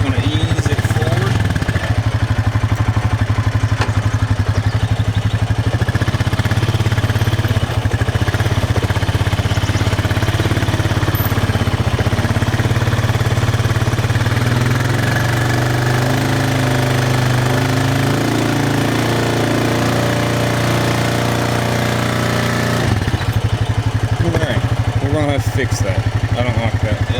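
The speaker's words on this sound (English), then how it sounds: "Alright, we got the four-wheeler going." A four-wheeler ATV engine runs steadily, towing a chicken tractor by shackle and chain, with a loud continuous low drone and rumble throughout that drops off briefly near the end.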